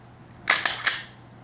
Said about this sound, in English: all the way back until the gun locks